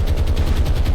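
Anti-aircraft guns fire in the War on the Sea naval game, set in the Dutch East Indies campaign: a dense, rapid, continuous rattle of heavy shots with deep low rumble, loud and close throughout, no speech.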